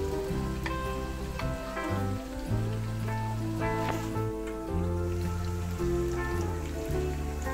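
Three medium onions fry in one and a half cups of oil for chicken biryani, a continuous rain-like sizzle with soft popping that runs under steady background music.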